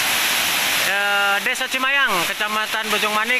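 Curug Cimayang, a 25–30 metre waterfall at Lebak, Banten, gives a steady broadband roar that runs through the whole stretch, heard alone at first and then under a person talking.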